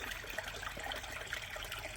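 A pond skimmer pump churns water and throws up bubbles, giving a steady, close rushing and gurgling wash with no talk.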